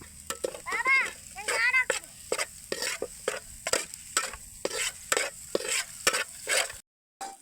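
Egg masala curry frying in a pan while being stirred, with repeated scraping spoon strokes over a soft sizzle, close and clear, with a short burst of speech early on.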